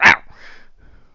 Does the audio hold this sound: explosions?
no